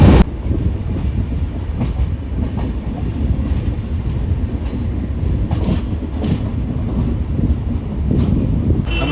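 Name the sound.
train running on rails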